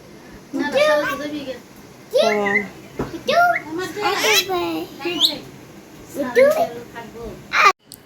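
A common myna imitates human talk in short, shrill bursts of voice-like chatter, close and clear, with brief pauses and a sharp squawk near the end.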